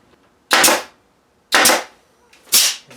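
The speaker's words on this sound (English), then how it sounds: "Fire a few nails into there too." A nail gun drives nails into the corner of a wooden counter, firing three sharp, loud, close pops spaced about a second apart, with near silence between shots.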